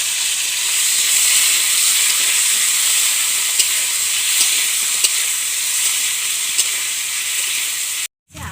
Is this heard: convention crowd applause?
no